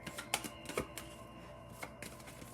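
Tarot cards are shuffled during a reading, making soft, quick papery riffles and taps that repeat irregularly and stay faint and close.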